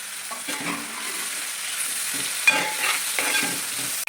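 Two tomatoes drop into a pan of sautéed ginger, chili and small onions, giving a continuous close sizzle with a few scraping stirs and a sharp clatter near the end.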